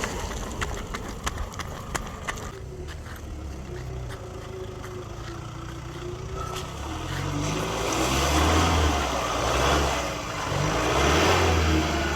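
A four-wheel-drive vehicle's engine revs up under load at a Queensland spot, its rumble swelling louder in repeated surges in the second half, with scattered clicks and knocks earlier and the front wheels not spinning.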